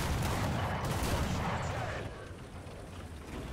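Rapid autocannon fire from a ZUT-37 in War Thunder tank combat, a dense, loud run of booming shots that eases somewhat partway through, with a voice faintly present underneath.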